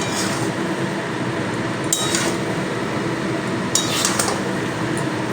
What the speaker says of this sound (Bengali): এবারে আমি একটু নাড়াচাড়া করে নেব